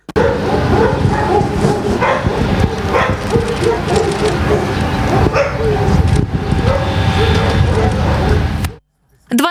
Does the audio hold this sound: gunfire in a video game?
no